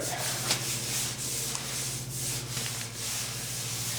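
Sandpaper rubbing back and forth over cured spot putty on a truck's cab corner during restoration, steady close scratchy strokes with a rhythmic rasp and a low hum underneath.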